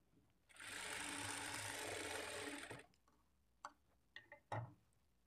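A sewing machine runs steadily for about two seconds while stitching the front part of a blouse at dot markings, then stops, followed by a few small clicks and handling taps nearby.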